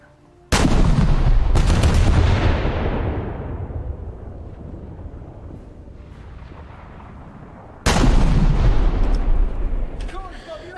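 A secondary ready rack on a warship explodes in a naval battle video game, two loud booming blasts about seven seconds apart, each with a long rumbling decay.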